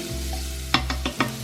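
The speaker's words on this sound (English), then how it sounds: "Now stir fry until the shrimps become pink." Shrimps stir-fried in a pan for char hor fun rice noodles: a steady low sizzle with a few distinct spatula scrapes and stirring knocks near the end.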